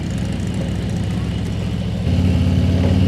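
Steady low Harley-Davidson motorcycle engine rumble, loud and close, rising slightly in pitch and volume partway through as it rolls on down a sandy slope in gear.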